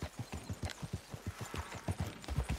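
In Red Dead Redemption, a horse comes trotting in after being whistled for. Its hooves give a steady, rhythmic clip-clop, fairly faint and close, that continues throughout.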